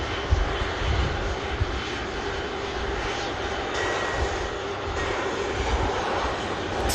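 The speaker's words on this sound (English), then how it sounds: "Two Airbus A330s coming around the corner." Two Airbus A330 airliners taxi at Manchester Airport, their engines a steady, broad rumble with a low roar. The sound holds near and fairly loud throughout, with no voices over it.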